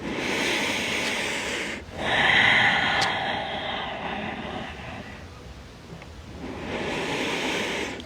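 Steady breathing during a yoga stretch against a wall, broad and airy with a stronger inhale or exhale swell around the middle, close and moderately loud with no talking.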